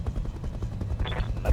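Bursts of gunfire from VTOL aircraft in a video game crackle through a dense low rumble, with rapid repeated shots over roughly a second and a half and a brighter rising whine near the end.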